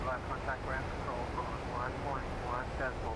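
Broad, steady jet roar from Boeing 737-800 thrust reversers deploying on landing in the PMDG flight simulator game, loud and continuous throughout, with a voice talking over it.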